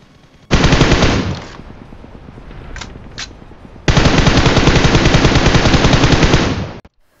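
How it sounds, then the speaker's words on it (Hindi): Sustained automatic gunfire in the BGMI battle royale game, two long loud bursts of rapid shots separated by a short gap with a couple of isolated single reports in between, close and dominant. "भाई मैं गोली चला रहा हूँ"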